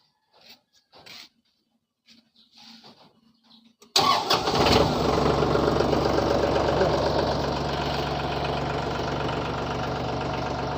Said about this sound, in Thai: เดี๋ยวมาฟังเสียงรถไถกันครับ